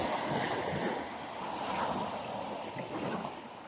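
Waves wash onto a seashore in a continuous broad rush that swells and eases, mixed with wind buffeting the microphone and with no voices.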